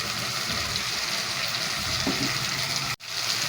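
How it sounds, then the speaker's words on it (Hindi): Tamarind water poured into a cooking pot of pumpkin and chana dal, a steady hissing sizzle with a brief splash as the liquid goes in, then a short sharp clatter near the end. "अब इमली का पानी है वो हम इसमें डालेंगे"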